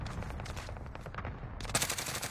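Gunfire in a video game, rapid automatic bursts of shots in quick succession, moderately loud and close, with a sharper burst near the end and no talking over it.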